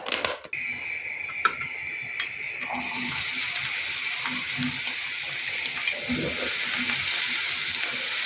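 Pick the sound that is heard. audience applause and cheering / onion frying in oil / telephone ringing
onion frying in oil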